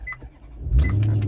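A 2017 Maserati GT Sport started with a flip-up key: a couple of short electronic beeps, then the engine catches with a loud low rumble that carries on steadily close by.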